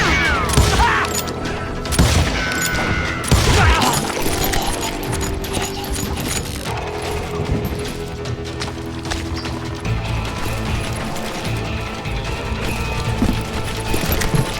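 A shotgun gunfight plays out in the 2013 video game Call of Juarez: Gunslinger: dense, busy bursts of gunfire with clacking reload mechanics over a continuous game soundscape.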